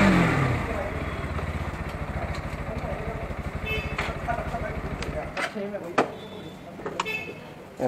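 A Bajaj Pulsar NS160 motorcycle with an underbelly exhaust is ridden, its steady low engine drone running for several seconds before cutting away to quieter clatter and a few sharp knocks.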